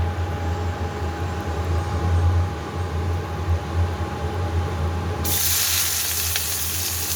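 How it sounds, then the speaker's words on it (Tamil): Onions are dropped into hot oil in a pan to sauté while cooking Maggi noodles; after a low steady hum, a bright, hissing sizzle starts suddenly and carries on to the end. "வெங்காயம் போட்டு வதக்குறோம்."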